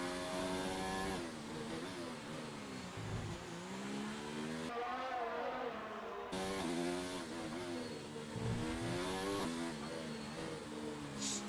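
Formula 1 race cars in a video game at Baku, engines revving and shifting continuously with high whining pitch sweeps as several cars pass, loud and sustained with a brief lull in the middle.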